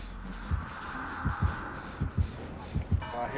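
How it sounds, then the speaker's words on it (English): In the video game Destiny, a low thudding heartbeat pulses in regular doubled beats, lub-dub pairs repeating about every three-quarters of a second over a steady background hum. "I hear heartbeat."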